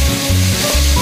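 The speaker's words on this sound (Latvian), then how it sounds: "lai karamelizēt to gaļu augstu temperatūru" Meat searing in a hot pan at high temperature, a loud close sizzle that holds steady through a brief moment, with no voices.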